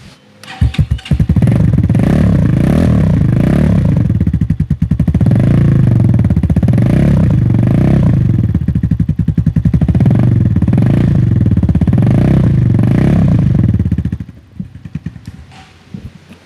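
A 250cc trail dirt bike, a Honda CRF replica, starts and idles loudly up close for about thirteen seconds with a rapid, steady thumping chug, then cuts off.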